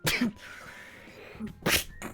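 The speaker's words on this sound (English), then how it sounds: "you want to know something about sneezing?" A person sneezes loudly and close, with a sharp burst followed a moment later by a second explosive sneeze and a brief trailing sound.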